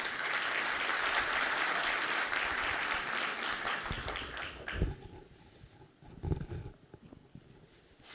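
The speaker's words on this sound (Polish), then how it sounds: "Brawa." An audience at a ceremony applauds loudly for several seconds, then the clapping thins out and fades into scattered claps and room noise.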